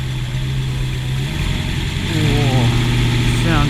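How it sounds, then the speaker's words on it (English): The custom homebuilt Chevy V8 motorbike idles close by with a deep, chunky rumble and a steady low throb, and a person talks over the engine toward the end. "Big chunky V8."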